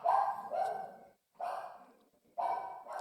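A dog barks three times in separate bursts about a second apart, each bark loud, close and slightly trailing off, with short silences between.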